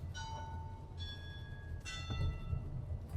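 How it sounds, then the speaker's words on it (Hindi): A church bell in a Portuguese village rings with clear, sustained tones, struck a few times in succession over a low, steady rumble of outdoor background noise. "वो घंटी बज रही है"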